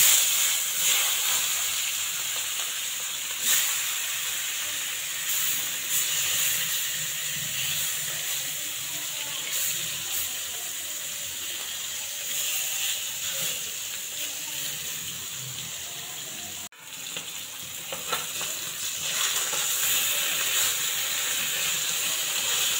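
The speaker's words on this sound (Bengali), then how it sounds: "এখন সর্ষের তেল দিয়ে দেবো। প্রথমে আমি বাটা মাছ ভেজে নেব।" Bata fish frying in mustard oil in a wok over a gas flame, giving a loud, broad, steady hiss that holds for the whole stretch with one brief dip partway through.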